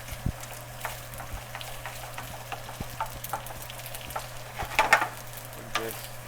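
Bacon bits stirred into a cream sauce for chicken and shrimp carbonara in a pan, with a soft steady sizzle, scattered light spoon taps and a brief scraping flurry near the end, close up and with no talk.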